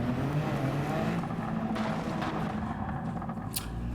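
Peugeot 2008 SUV engine running steadily in Gran Turismo 7, a continuous loud drone with harmonic hum, no talking over it.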